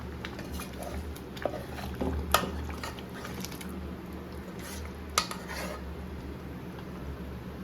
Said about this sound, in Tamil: பருப்பை மிக்ஸ் பண்ணியாச்சு